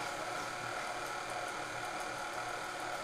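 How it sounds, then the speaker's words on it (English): An electric mixer whirs steadily while a raspberry chocolate cake batter is being made, a constant, fairly quiet hiss-like motor drone with no pauses. "now stop the mixer"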